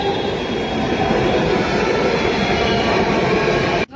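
A Delhi metro train rolls in with a steady, loud rumble of wheels on rails and faint squealing, holding at an even level before cutting off abruptly near the end.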